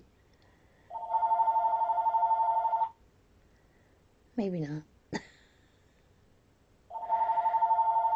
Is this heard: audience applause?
no